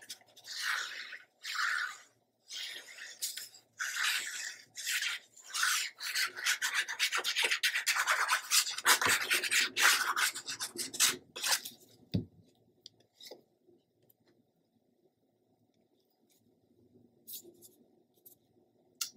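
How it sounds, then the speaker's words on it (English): Green patterned scrapbook paper from a 12 by 12 pattern pack being trimmed to fit a page, close scraping and cutting strokes in a rapid rhythm, then fading to quiet with a few faint clicks. "and then we're going to trim out the green to fit."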